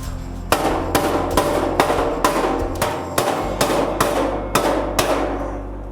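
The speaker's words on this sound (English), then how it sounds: "So I just hammer them in the position where I can" Sharp, ringing hammer blows strike metal pieces into position for welding in a steady rhythm, about two per second, loud and close with no talking.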